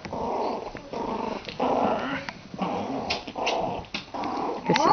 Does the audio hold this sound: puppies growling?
yes